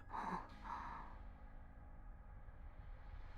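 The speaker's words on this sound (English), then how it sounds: "A gasping sound." A short gasp of surprise near the start, a quick sharp breathy intake followed by a softer second breath, then quiet low background.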